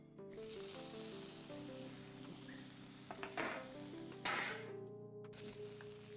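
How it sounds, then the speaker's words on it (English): A steak sears in a hot pan with a quiet, steady sizzle, broken by a few sharp metal clinks and scraping bursts nearby, while a low musical hum plays underneath. "We're going to sear it right and left around it."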